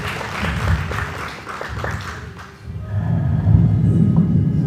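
Audience applause for theatre performers at a Fête de la Dentelle show in a hall in Caudry, steady dense clapping that swells louder in the last two seconds, no talk over it.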